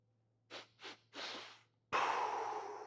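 Stimulating Wim Hof style breathing, a run of sharp forceful breaths: two short puffs, a longer exhale, then a loud sustained rushing breath close to the mic.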